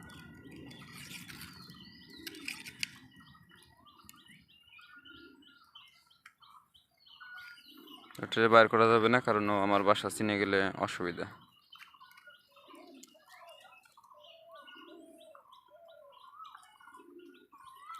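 Pigeons in a racing flying loft coo and shuffle softly in the background. Someone talks over them for part of the stretch, and the birds stay faint and intermittent.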